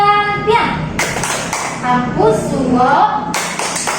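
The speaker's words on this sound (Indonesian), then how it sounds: "Coba kasih tepuk santiang untuk kelompok 1." A classroom of children giving a rhythmic group clap for a group of classmates, several bursts of clapping mixed with lively children's voices and a chanting, sing-song cheer.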